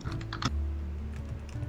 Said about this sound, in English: I'm typing all this down.